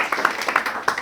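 A seated audience claps at a Christian work ethics teaching session, with a short burst of scattered, moderately loud hand claps.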